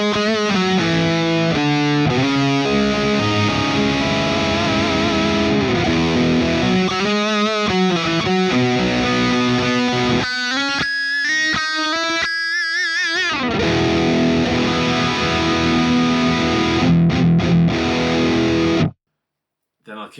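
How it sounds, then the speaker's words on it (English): Electric guitar played through the distortion amp capture of a guitarist's rig on a Quad Cortex, sustained overdriven chords and sliding bends ringing loud and close for about twenty seconds before abruptly cutting to silence. "this is just the amp, the distortion amp"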